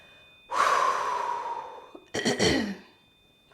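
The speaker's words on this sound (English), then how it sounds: "Continuing to breathe." Breathing exercise: a long, strong breath drawn in with a faint whistling edge, a short pause, then a rougher, shaky exhale, close and fairly loud in a quiet space.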